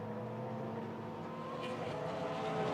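GT race cars at COTA in the Fanatec GT World Challenge America, including a Porsche, with a steady engine roar and a building pass near the end.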